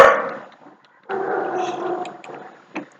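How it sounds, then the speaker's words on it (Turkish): A dog barks and growls while scrapping with other dogs outside, one loud close burst followed after a gap by a longer snarling run and a short final yelp. "dışarıda köpeklerle kavga ediyor mübarek ya"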